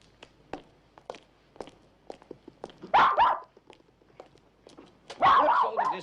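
A dog barks in an old Edinburgh churchyard, Greyfriars Kirkyard: two loud bursts of barking, close by, spaced a couple of seconds apart, with soft footsteps and small knocks in between.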